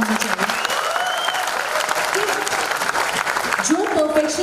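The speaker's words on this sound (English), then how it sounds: "I want to give them a great applause for them." Festival audience at a college event applauding performers, loud, continuous clapping with a voice speaking over it near the end.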